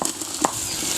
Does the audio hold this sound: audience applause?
no